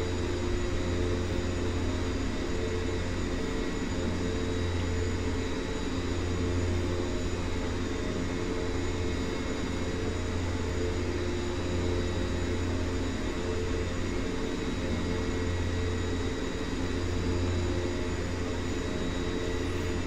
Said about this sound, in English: the engines are running smooth